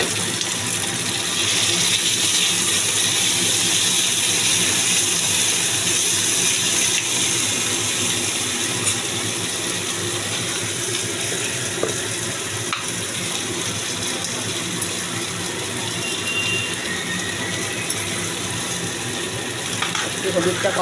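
Water added to okra frying with cumin powder in a pan, a steady loud hiss and sizzle running unbroken throughout, close up, with a voice speaking over it.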